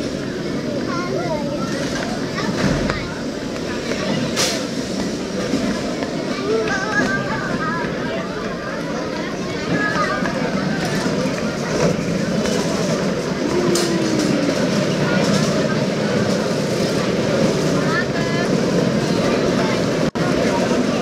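Continuous rumble and rattle inside a moving train at Sentosa Island, Singapore, steady and loud throughout, with voices talking over the noise.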